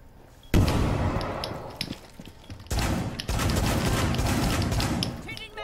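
Shotgun blasts in Rainbow Six Siege, a few heavy booming shots in close succession with loud bursts of game noise, while a player talks over the action.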